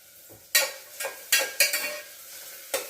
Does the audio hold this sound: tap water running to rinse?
no